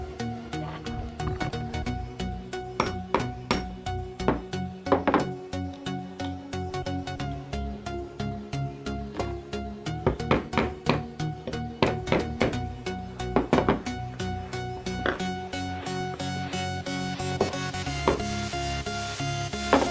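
A zinc plate being punched full of holes, giving a steady run of sharp knocks and thunks with ringing metallic overtones, loud and close, with no talking.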